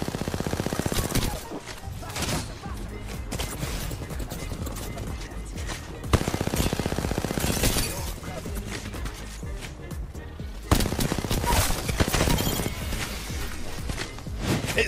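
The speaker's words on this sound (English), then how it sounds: "It still amazes me how much damage the Spitfire can deal." Rapid automatic fire from the Spitfire light machine gun in Apex Legends, loud sustained bursts with brief pauses, layered over dense game effects and background music.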